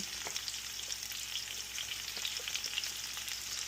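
Chopped onion sizzles and fries steadily in a hot pan while blue crabs are being cooked, a constant close, bright crackle with small pops throughout.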